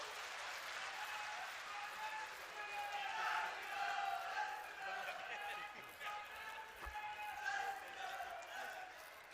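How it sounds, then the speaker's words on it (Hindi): Audience at a BJP political rally in Haryana clapping to welcome an MLA, a dense, sustained wash of applause and crowd noise that swells and ebbs for several seconds, with a voice audible over it. "ताली बजा के दादा गौतम का स्वागत करता हूं"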